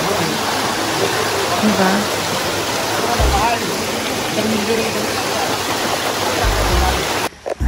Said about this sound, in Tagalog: Ayun, sobrang buhay na buhay ang sapa.